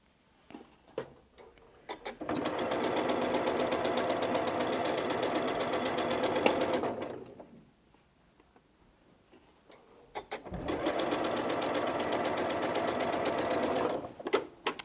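Sewing machine chain piecing scrappy quilt fabric, running in two long steady bursts of rapid stitching separated by a pause, close and loud with no talking.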